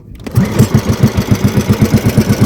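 A boat engine with a fault runs rough and misfires, a loud, close, rapid chugging with uneven pulses after a brief quiet start.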